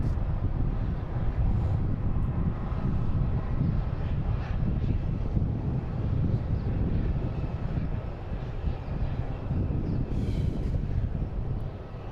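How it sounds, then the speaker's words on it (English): An American Airlines Boeing 737 arriving from Philadelphia lands at Boston Logan, its steady broadband engine roar rumbling continuously and fairly loud, mixed with gusty wind buffeting the microphone throughout. "And also a American Airlines 737 coming in from Philly"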